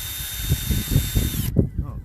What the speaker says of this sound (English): So we're going to drill a very small hole.